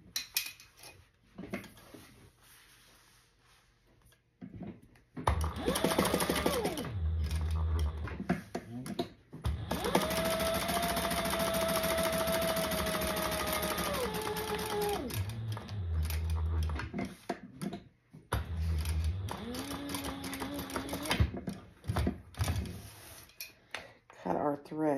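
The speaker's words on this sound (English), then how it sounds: "we're going to do 1/8 of an inch stitches here to create that slip pocket" A sewing machine stitches a slip pocket with 1/8-inch stitches beside an ID window, running in a few long motor bursts with rising and falling whine, close and loud, separated by short pauses.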